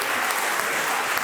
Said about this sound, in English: A round of applause to St. Joseph School.